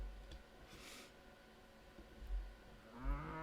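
A cow moos in the RailRoads Online video game, a low, faint call near the end over quiet ambient background, with no talking.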